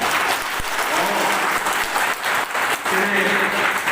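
Dense, sustained audience applause at a public talk on respecting the law, given in honour of police services, a steady roar of clapping that fills all four seconds with only slight dips.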